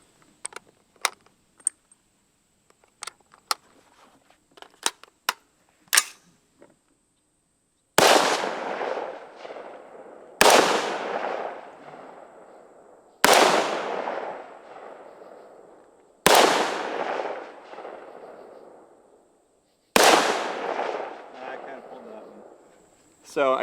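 Five .22 caliber rifle shots are fired at a target through a scoped rifle, sharp close cracks spaced a few seconds apart, each trailing a brief echo, after some quiet clicks and handling noises.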